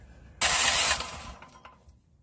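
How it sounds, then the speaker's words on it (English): A home-built go-kart engine, still unmounted, turning over on its electric starter: a loud burst of cranking that lasts about half a second, then drops to a quieter mechanical whir that fades out. "we'll see if it turns over when I turn the starter"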